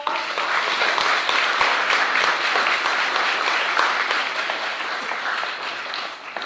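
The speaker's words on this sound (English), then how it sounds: "Let's give him a nice round of applause." Audience at a school board of education meeting gives a steady round of applause, dense clapping from many people heard close and loud, fading slightly toward the end.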